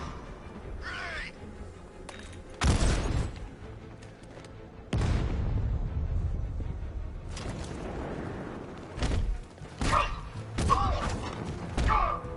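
A grenade goes off in Batman: Arkham Knight, landing as several loud, deep thuds and booms spread through the scene, with in-game shouting between them.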